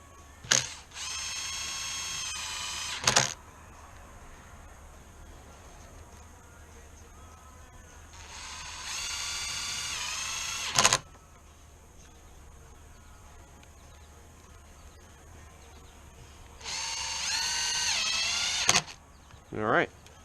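A power tool whirs in three short bursts while running bolts into the rear fin post of a Waydoo Flyer ONE electric hydrofoil, each burst with a pitch that climbs, separated by quiet gaps and sharp clicks.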